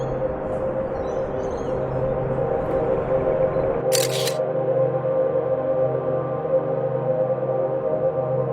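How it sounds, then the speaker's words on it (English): A camera shutter fires once in a short, crisp click during a handheld low-light landscape shot at a slow shutter speed, set against a steady low background hum that continues before and after. "I'm going to try and grab a shot of this"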